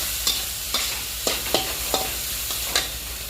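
A spatula scrapes and tosses Mama instant noodles in a hot pan in a stir-fry, with about seven evenly spaced strokes over a continuous close sizzle.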